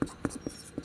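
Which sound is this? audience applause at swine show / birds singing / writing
writing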